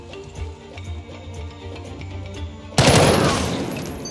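Gunfire in the video game Jagged Alliance 3: a sudden loud burst of shots after a quiet stretch of music-like ambience, ringing and decaying over about a second, close and dominant.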